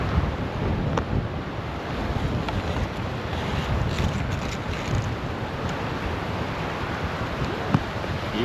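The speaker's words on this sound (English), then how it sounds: "rapids coming under this bridge, so we need to see how we can make it" Fast river rapids rushing under a bridge, heard from aboard a small dinghy catamaran: a steady, loud broadband roar of churning water with wind buffeting the microphone, continuous throughout with no voices.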